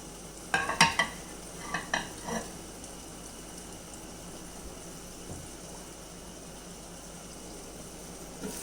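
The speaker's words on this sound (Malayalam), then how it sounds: "ഉള്ളി ഒന്ന് ഇളക്കി കൊടുക്കാം." A few scraping stirs of a spoon in a pan early on, then a soft, steady sizzle of onions frying quietly in the background for a drumstick-leaf and egg curry.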